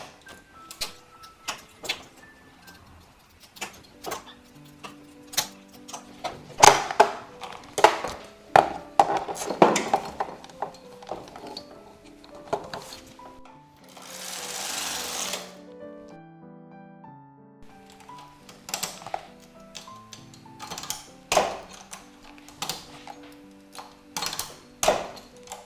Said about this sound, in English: I'm knitting 2 rows in between every single transfer